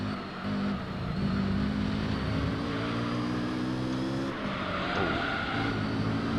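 A race car engine in Gran Turismo 3 roars steadily and loudly, rising in pitch as it accelerates, with a brief dip and tire skid near the end, and no voices.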